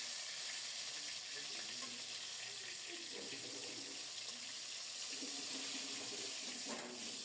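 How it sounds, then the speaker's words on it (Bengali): Topse fish sizzle in hot oil in a pan, a continuous soft crackling hiss that stays quiet and even throughout. "কি সুন্দর মতো ভাজা হচ্ছে।"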